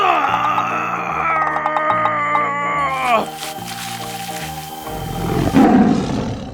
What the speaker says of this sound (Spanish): ¡Oh, no! ¡Es un tigre feroz!